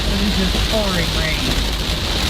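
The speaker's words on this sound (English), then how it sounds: "just pouring rain" Heavy rain pours steadily on a Ford Escape in a thunderstorm with flash flooding, a dense, constant wash of sound close around the car, with people briefly talking over it.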